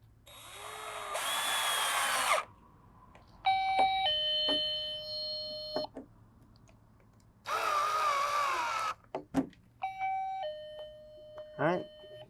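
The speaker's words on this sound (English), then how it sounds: "There's the doorbell." A KidKraft toy doorbell on a Lakeside Bungalow playhouse rings several times in short electronic chime bursts, each lasting a second or two with gaps between. Bright whirring tones also come and go, and the sound is close and clear.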